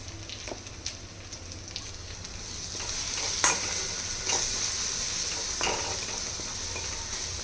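Ridge gourd stir-fries in a pan with turmeric and coriander powder, giving a continuous soft sizzle broken by scraping stirs and a few sharper clinks of the spatula, with no voices.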